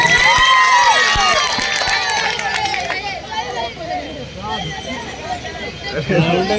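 An audience at a live mushaira poetry gathering in Fatehpur Sikri tehsil claps and cheers loudly and continuously, with a voice speaking over the noisy crowd.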